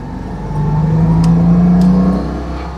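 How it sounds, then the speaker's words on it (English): A Citroën 2CV accelerates on an outing, its small engine rising in a strained, buzzy drone that swells and holds loud and close before easing off. "They're not refined, they're not quiet, they're so much fun."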